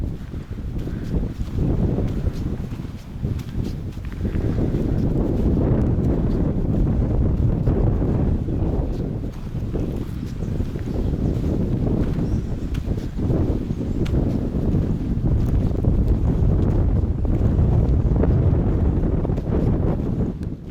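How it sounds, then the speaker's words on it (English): Steady roaring wind buffets the microphone on a hike near a ranch outside Bad Bergzabern, a continuous low rumble with gusty surges throughout and no voices. "So windy."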